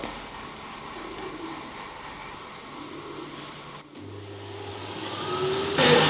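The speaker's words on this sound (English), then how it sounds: "This is a blowing machine." A blowing machine at a Hanoi incense village, loaded with cut incense sticks to blow away the thin ones, gives a steady mechanical whir and rush of air at close range, with a brief dip before a harder blast near the end.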